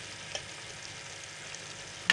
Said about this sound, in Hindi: दही को अच्छे से भूनेंगे।